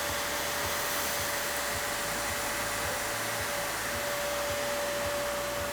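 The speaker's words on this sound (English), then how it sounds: "the Riccar SupraQuik is a very versatile multitask vacuum cleaner" A Riccar SupraQuik portable canister vacuum cleaner, carried on a shoulder strap for cleaning hard surfaces, runs with a constant loud whooshing whine over a low motor hum, steady and unbroken throughout.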